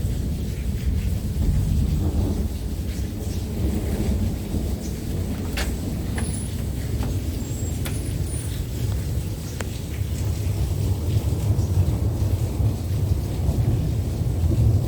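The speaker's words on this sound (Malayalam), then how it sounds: "ഭയങ്കരമായിട്ടുള്ള ഇടിയാണ്" Heavy thunder rolls during a pouring rainstorm in Ajman in 2024, with deep continuous rumbling and dense rain hiss filling the air and a few sharper cracks standing out.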